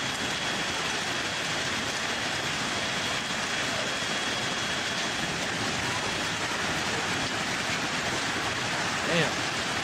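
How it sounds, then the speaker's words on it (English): Summer storm rain in Queensland, Australia pours steadily as a dense, even hiss of heavy rainfall on surfaces, continuous and fairly close, with no break across the whole stretch. "As a summer storm hits Queensland."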